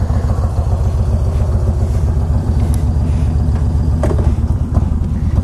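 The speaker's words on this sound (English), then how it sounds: "1900cc Yamaha Raider with the Vance and Hines pipes." A 1900cc Yamaha Raider cruiser motorcycle fitted with Vance and Hines pipes rumbles along while riding, its deep, loud, throbbing exhaust pulsing steadily and close throughout, with some wind and road clatter.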